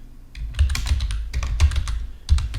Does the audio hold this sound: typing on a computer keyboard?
yes